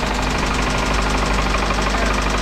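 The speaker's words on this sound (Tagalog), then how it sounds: "Atok ang makina. Kumayod yung bearing nito sa sigil yan." A car engine knocks from a worn bearing, a close, loud, continuous mechanical run with a fast, steady rhythmic tapping throughout and no talking over it.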